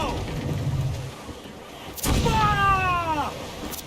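Ship cannons fire in the Assassin's Creed Black Flag naval combat game: a loud broadband boom at about two seconds over a rumbling sea backdrop, followed by a falling whistling tone as a shot flies off.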